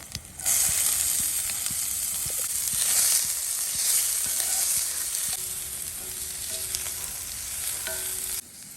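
Chopped onion fries in a pan for masala egg fry, a steady loud sizzle with occasional stirring clicks that cuts off abruptly at the end, with no voices.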